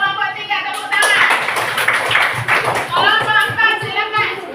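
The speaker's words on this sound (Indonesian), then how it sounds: "100 untuk kelompok 3, tepuk tangan." Schoolchildren in a classroom clap their hands together in a burst, the claps mixed with young voices talking and calling out over them.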